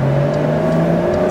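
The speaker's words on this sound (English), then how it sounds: "Makes it kind of gurgle a little bit when you get off the exhaust" A 2023 Porsche 992 4S Cabriolet exhaust burbles steadily up close, a low throaty drone with a faint whine riding above it, no voices.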